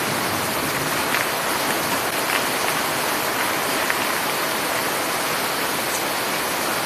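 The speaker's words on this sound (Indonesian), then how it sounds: "Hujan-hujan makan lotek dulu, mantap." Steady rain pours down throughout in a continuous, even hiss with faint scattered drops on a surface, with no talking over it.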